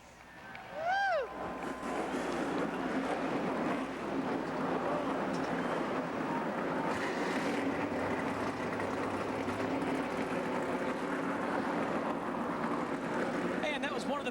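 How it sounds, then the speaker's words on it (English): Engines of 2001 ARCA stock cars at Pocono fire up and hold a sustained, rumbling broadband roar that fills the track, with a voice speaking over the noise. "Engines have been lit."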